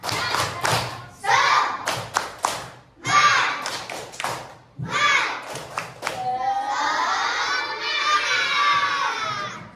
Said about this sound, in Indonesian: Selanjutnya, tepuk semangat.